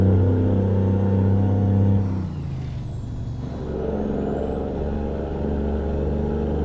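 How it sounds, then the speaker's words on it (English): A heavy truck engine in American Truck Simulator, a Ruda glider hauling a B-train, drones with a deep steady rumble that drops off briefly as revs fall, then builds back up to a sustained loud hum. "Yeah, I really like the way this engine sounds."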